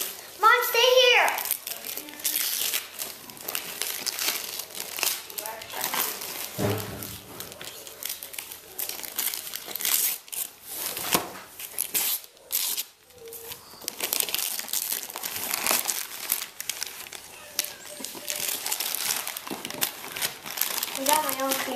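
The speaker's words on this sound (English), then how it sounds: "we gotta open presents" Wrapping paper crumples, crinkles and tears in bursts as Christmas presents are opened, mixed with excited children's voices talking and shouting throughout.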